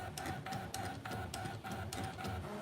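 A Brother ScanNCut cutting machine draws dashed lines with a pen in place of its blade, producing a steady, close mechanical whir broken by regular ticking pulses roughly every quarter second.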